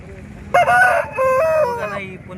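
A rooster crows loudly and close by at a chicken market in Gudur, one long multi-part call over a low background murmur.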